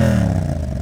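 A motorcycle engine revving briefly and loudly nearby, then dropping away into a rough idle.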